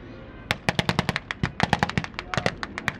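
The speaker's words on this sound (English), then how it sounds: "the bazooka goes" Rapid bursts of gunfire crack out during a World War II reenactment battle, a string of sharp close reports in quick irregular rhythm, with loud ones amid fainter distant shots.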